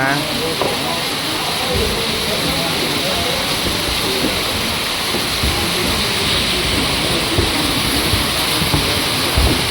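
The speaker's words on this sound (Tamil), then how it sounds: "மழை பயங்கரமாக பெய்யுதுங்க." Heavy rain pours down in Gangtok, Sikkim, a steady dense hiss of falling water filling the whole stretch, loud and unbroken with no voices over it.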